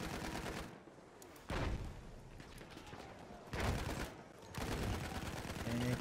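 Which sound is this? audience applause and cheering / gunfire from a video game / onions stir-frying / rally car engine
gunfire from a video game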